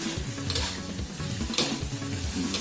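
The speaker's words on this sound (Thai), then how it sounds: "คั่วมันก็จะแห้งประมาณนี้ครับ ถ้าชอบแห้งๆก็คั่วไปเรื่อยๆครับ" Chicken with holy basil stir-fried dry in a pan for Thai pad kaprao: steady close sizzling with repeated scraping stir strokes, alone without talk.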